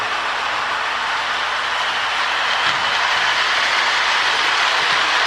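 A Lionel 1666 model train pulling American Flyer prewar passenger cars runs continuously, a loud steady rolling rumble and whirr with faint rhythmic clicking of wheels on track.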